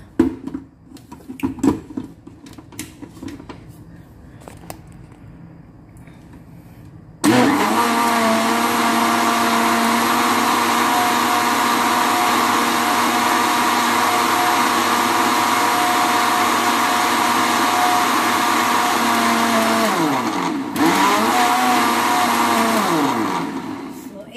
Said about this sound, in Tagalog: Tsaka i-blend natin ng high speed. Blender na naman.